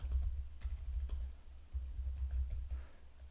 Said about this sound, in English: I shouldn't use the keyboard so much.